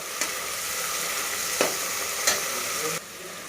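Food sizzles steadily in a hot pan, with a few sharp scraping clicks as it is stirred.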